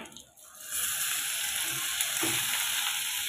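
Ground masala paste dropped into hot oil and sautéed for amti, a quiet moment then a sudden loud sizzle that holds steady with faint stirring.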